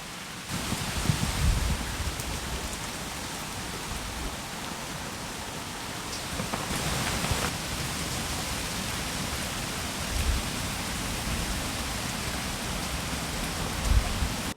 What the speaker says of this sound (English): But we're still getting some quite high winds and some rain.